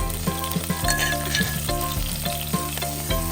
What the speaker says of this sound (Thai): ให้เพื่อนๆผัดจนมีกลิ่นหอมของพริกกับกระเทียมออกมาเลยค่ะ